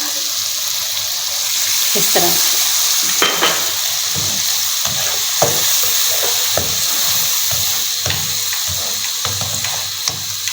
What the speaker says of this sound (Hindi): हम जो है इसके अंदर पानी ऐड कर देंगे